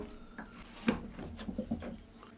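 A knife blade scraper drawn across wood, taking off shavings in a few short, faint scraping and rasping strokes, close and quiet, with no talk.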